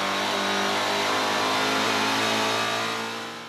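A race car engine at Killarney in a 2019 GTC Series race holds a loud, sustained high-pitched roar as it accelerates through a right-hand sweeping corner in fourth gear, with no voices over it.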